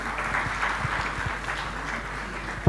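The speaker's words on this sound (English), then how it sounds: "Can we please give him a round of applause?" Audience applause for Chief Olusegun Obasanjo at a governance event, a steady wash of clapping held at an even level throughout, ending in a sharp thump.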